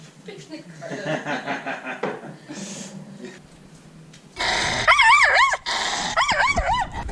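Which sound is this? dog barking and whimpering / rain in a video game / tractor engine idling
dog barking and whimpering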